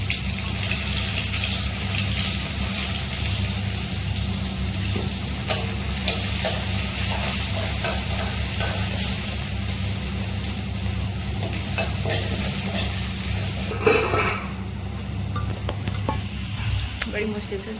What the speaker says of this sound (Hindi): तो यहाँ पे तेल हो चुका है तो मैंने एक पीस फ्राई चला दिया है अभी के लिए।